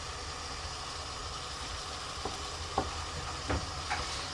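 Lamb browning in a pan, a soft continuous sizzle under a low steady hum, broken by a few faint clinks and scrapes toward the end.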